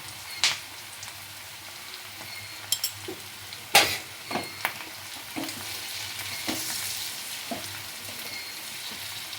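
Bhetki chilli fish fries in spices in a pan, a soft steady sizzle broken by several sharp scraping stirs of a spoon, close up with no talking.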